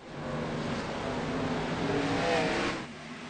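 Race cars accelerate as the pace car pulls off during a race, a loud, sustained engine roar that swells to a peak and then eases slightly at the end.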